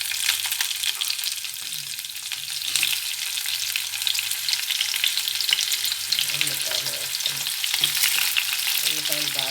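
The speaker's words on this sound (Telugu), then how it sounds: "ఉల్లిపాయలు బాగా వేగాలి." Onions frying in a pan for an aloo fry dish, with a loud, continuous crackling sizzle close up and occasional stirring scrapes.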